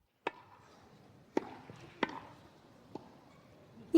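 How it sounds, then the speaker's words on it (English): A few sharp, hollow pops of a tennis ball being struck, spaced irregularly over a quiet background, ending with a brief louder burst. "our first sound is a tennis ball"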